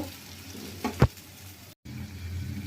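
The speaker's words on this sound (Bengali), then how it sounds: "আমরা এবার একটু কপি দিয়ে কষে নেব।" Potatoes and cauliflower fry in a pan in a steady low sizzle, with one sharp scrape of stirring near the middle and a brief cut of silence before the frying resumes.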